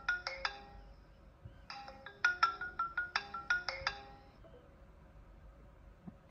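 A KIESLECT Kr2 smartwatch plays its incoming-call ringtone, a bright repeating melodic chime in quick note bursts that repeats in two phrases, clear and close against quiet background.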